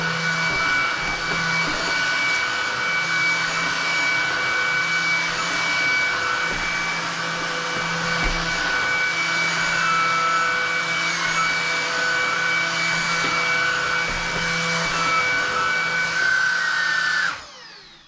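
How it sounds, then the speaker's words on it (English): A vacuum cleaner fitted with a scraper attachment strips foam from a car headlining in a Rover Streetwise, a loud steady motor whine with the pitch wavering as the nozzle drags across the fabric, cutting off at the end. "So let's get the vacuum cleaner and see what we can get off with that."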